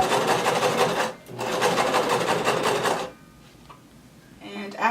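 A sewing machine stitches fabric close to the edge of a halter crop top. It runs in two steady, fast-whirring bursts separated by a brief pause, then falls quiet near the end.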